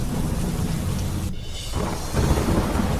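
Heavy monsoon rain pours down over Ahmedabad with a deep roll of thunder, a dense steady hiss that briefly thins before surging back louder, with no voices.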